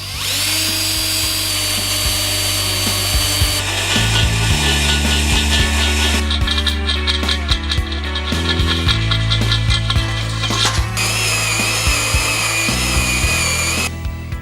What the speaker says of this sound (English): So now we drill with an 1/8 inch bit first.